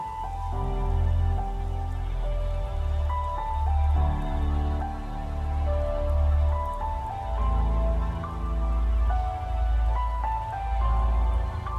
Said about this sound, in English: it was gonna start off with the rain sound